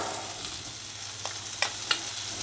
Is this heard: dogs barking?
no